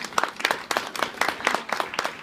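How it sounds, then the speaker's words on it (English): Wedding guests clapping at a reception, a brief, brisk burst of applause from a small crowd, close by and steady, with no talking over it. "So let's give your guys a round of applause."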